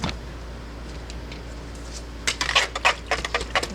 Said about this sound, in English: and just hand stir it